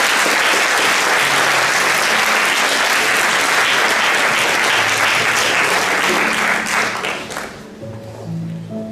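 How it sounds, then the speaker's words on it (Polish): Loud, sustained applause from an audience at a regional foster parenting conference in Olsztyn, honoring a foster family; dense clapping fills most of the clip, then thins and fades toward the end as a low hum emerges. "Wielkie brawa"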